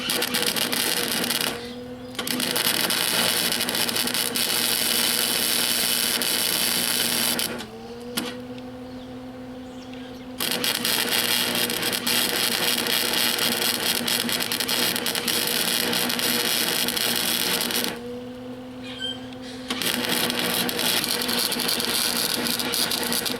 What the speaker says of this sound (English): This is definitely some nasty guerrilla welding.